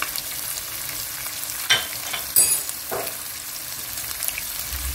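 Spices frying with tomato paste and oil in a pot for Turkish Anali Kizli soup, a steady, dense sizzle with occasional stirring scrapes and clinks, close and continuous with no talking.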